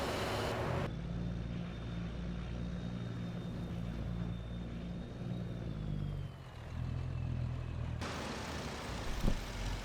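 A farm vehicle in Farming Simulator 25 on a Montana cattle ranch drives with a steady engine drone and a faint whine, dipping briefly before rising again.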